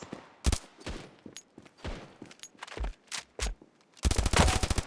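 Gunfire in a first-person shooter video game, with several sharp single shots spaced irregularly, then a loud rapid automatic burst at the end, no voices over it.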